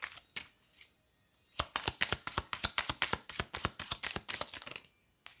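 Tarot cards shuffled and drawn from a deck: after a couple of isolated taps, a quick run of crisp, evenly spaced card flicks and slaps rattles on close by for about four seconds, with no talking.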